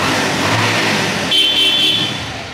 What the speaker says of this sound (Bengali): ইঞ্জিনের সাউন্ডটা শোনা যায়।